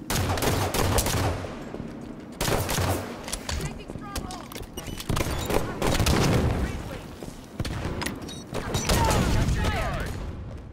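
Gunfire in a Halo 5 multiplayer match: loud, dense bursts of rapid automatic shots and booms come in waves over several seconds, with game voice callouts in between.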